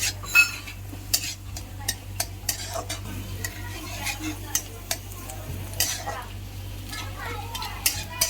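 Onion sautéing in a pan, with a soft continuous sizzle and repeated scraping clicks of a spoon stirring at an irregular pace, while a person talks over it.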